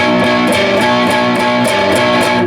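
Electric guitar plays a repeating chord riff, steady and close with a slightly driven tone, clean of any voices.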